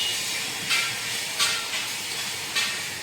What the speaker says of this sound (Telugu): దీన్ని ఇలానే ఆయిల్లో డిప్ చేసుకోవాలి